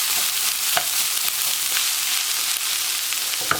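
Homemade chili sauce made from rehydrated dry chilies and peppers fries in a pan with a steady, soft sizzle and occasional faint pops, heard alone.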